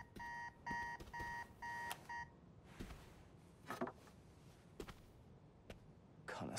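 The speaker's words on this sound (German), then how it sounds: "Na, gucken wir uns den Wecker mal an." Digital alarm clock ringing in the video game Marvel's Spider-Man 2, four quick bursts of high electronic beeping, then scattered clicks and thuds against a quiet background.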